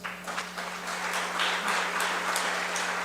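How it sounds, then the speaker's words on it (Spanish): Audience at a global administrative law conference panel on health claps for the panel participants, a steady, dense wash of applause that holds for about three seconds over a constant low electrical hum. "Agradecemos a los participantes de esta mesa con un fuerte aplauso."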